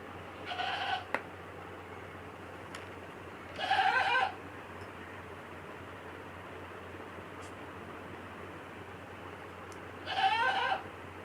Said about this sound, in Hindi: देखो बकरा भी कह रहा है हाँ।